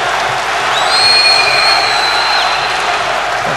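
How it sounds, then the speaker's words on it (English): A packed crowd in a judo arena at the 2011 World Masters in Baku roars and cheers continuously, a loud sustained wash of voices with whistles rising above it. "Oh, now you can hear the crowd."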